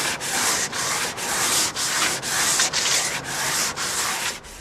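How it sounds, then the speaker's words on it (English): Hand sanding over the high points of a boat hull being finished with enamel: a steady, close scratchy rasp in repeated back-and-forth strokes, about eight even passes with brief dips between them, no voices. "You can see it doesn't take much sanding just to expose those high points."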